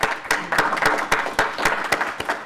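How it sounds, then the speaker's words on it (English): Audience applause at a panel discussion on ethical digital citizenship: dense, steady clapping from a crowd, with sharper individual claps rising rhythmically above the wash throughout. "so let's give them a round of applause"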